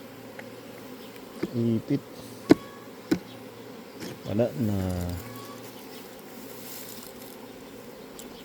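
Honeybees buzzing around an apiary in New Zealand during summer, a low droning hum with a few sharp knocks and clicks, while people speak briefly nearby.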